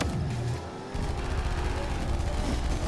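In the racing game Grip, a rocket strikes cars with heavy, roaring blasts, loud and close, followed by a dense, rumbling barrage of explosive noise and engine roar.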